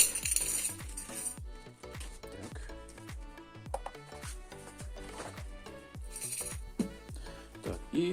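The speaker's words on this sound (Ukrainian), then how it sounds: "Загружаємо контакти з конкулятора." Small metal contacts salvaged from a contactor clink and rattle as they drop into a container, many sharp metallic chinks in an irregular quick sequence, close and fairly quiet.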